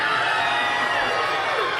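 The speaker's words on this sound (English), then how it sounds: "Somebody told me there was a crowd out here." A crowd cheers and whoops continuously at a Massachusetts Senate special election concession speech, a sustained, fairly loud wash of voices with no single speaker standing out.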